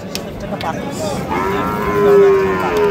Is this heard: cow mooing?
yes